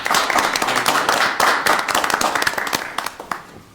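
Audience at a committee meeting clapping for a group, a dense burst of handclaps close by that thins into scattered claps toward the end.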